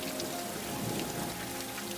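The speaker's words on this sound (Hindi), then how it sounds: "ये बारिश तो रुकने का नाम ही नहीं ले रही है" Heavy rain pours down steadily in a dense, unbroken hiss, close and loud throughout, with no voices or other sounds over it.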